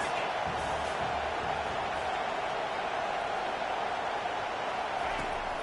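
A stadium crowd at an American football game gives a steady, loud roar throughout, a continuous wash of noise with commentary spoken over it.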